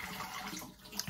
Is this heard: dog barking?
no